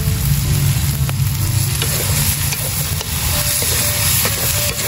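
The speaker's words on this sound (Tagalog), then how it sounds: "igisa lang natin ng 3 minutes, all goods na yan" Sisig bulaklak sautéing in a pan with calamansi juice, a loud, steady close sizzle and crackle running the whole time with occasional stirring scrapes, no voices.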